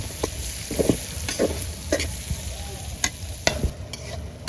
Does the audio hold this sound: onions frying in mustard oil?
yes